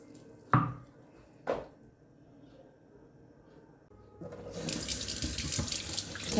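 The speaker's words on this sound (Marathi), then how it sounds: "आता खलबत्ता स्वच्छ धुवून घेते" Water runs from a tap while a new stone mortar and pestle is washed, starting after two sharp knocks of stone with a quiet pause, then a loud steady splashing stream at close range.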